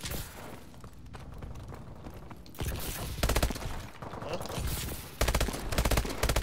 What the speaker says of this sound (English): Who's shooting? Holy crap, there's too many people shooting at me.